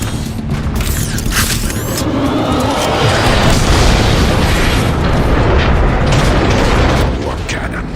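Heavy cannon fire in the Transformers: Fall of Cybertron video game, a loud sustained rumbling barrage of explosions filling the whole stretch, with dialogue heard faintly underneath.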